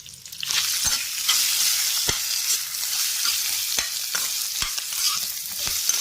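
Curry leaves and asafoetida crackling in a hot oil tempering, a continuous hiss of sizzling with scattered sharp pops and spits, close and steady with no voices.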